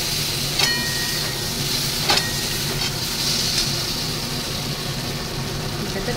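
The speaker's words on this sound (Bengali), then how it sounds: "একটু জল দিয়ে দিলাম।" Spice masala in a pan hisses and sizzles steadily after a little water goes in, a continuous close frying noise with a few brief sharper crackles near the start.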